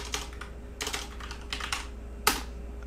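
Keys clatter on a computer keyboard as a terminal command is typed, a few quiet bursts of rapid clicks with short pauses and one sharper keystroke near the end, close and soft, no talking.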